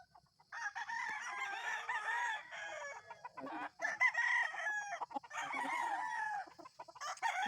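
Young roosters, or stags, in a chicken coop crow repeatedly in overlapping calls while chickens cluck around them, moderately loud and close.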